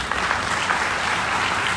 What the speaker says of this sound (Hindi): तालियां बजा लो।